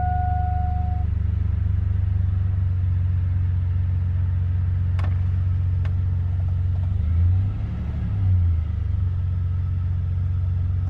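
A 2002 Chevy S-10 Xtreme engine with a new idler pulley and belt, idling steadily with a loud, low rumble and a brief dip in pitch partway through, plus a couple of sharp clicks.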